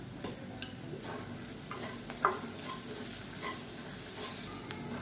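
Raw banana pieces frying in oil until crispy, a constant close sizzle broken by a few sharp spatula clinks and stirring scrapes, without any talking.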